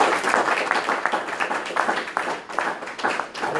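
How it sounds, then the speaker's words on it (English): Audience members clap after a running talk, a close, even patter of hands that continues steadily for a few seconds. "A big round of applause, please"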